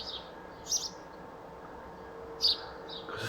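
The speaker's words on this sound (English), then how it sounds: "What do I do about this bird?" A pet bird gives two short, high chirps, well apart, close by in a quiet room, with another faint chirp at the very end.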